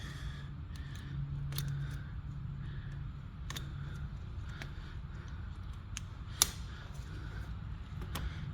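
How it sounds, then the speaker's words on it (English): Tape is cut away from a part near the wheel of a 2006 Subaru Legacy 2.5 in a quiet workshop, with a few faint, sharp snips and clicks spaced a second or two apart over low background hum. "Let's start taking this tape off. We'll cut it and see what we see."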